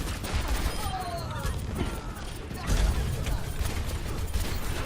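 Hip-fired gunfire crackles in a first-person video game, rapid bursts of shots with mechanical clicks and a thumping impact midway, under ongoing game sounds and some speech.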